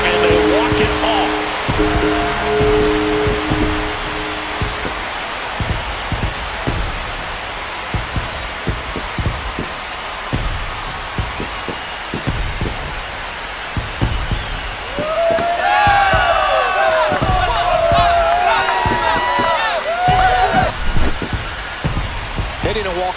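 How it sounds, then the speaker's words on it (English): A home crowd roars after a walk-off home run in MLB The Show 25, Padres versus Phillies, a loud sustained cheer with a commentator talking over it. "That should put a jolt into this home crowd. And they walk it off."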